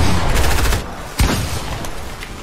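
Rapid bursts of rocket fire and a sharp boom from a video game, loud and dense, with repeated explosive reports layered over a rumbling background.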